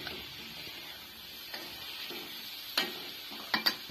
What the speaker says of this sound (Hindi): अब हम इसमें डालेंगे 2 टमाटर कटे हुए बारीक, इसको भी मिक्स कर लेंगे।